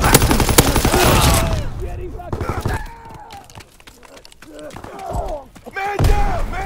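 Gunfire in the World War II shooter Call of Duty WWII: loud bursts of rifle and machine-gun shots with sharp cracks and thuds, heaviest at the start and end, mixed with shouted voices.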